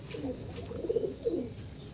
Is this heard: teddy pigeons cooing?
yes